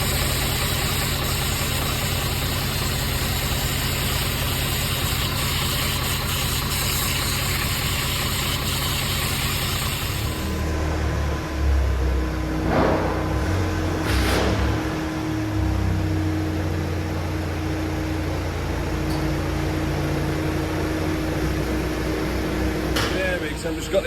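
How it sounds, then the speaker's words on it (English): A van's engine idles steadily to warm its oil, a low continuous hum that carries through the whole stretch, with a broadband hiss in the first half that drops away partway through, leaving the quieter engine drone. "I've just got the engine running, warming the engine oil up"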